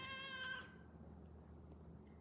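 A house cat gives a single drawn-out meow at the very start, fairly close, then only quiet room noise follows.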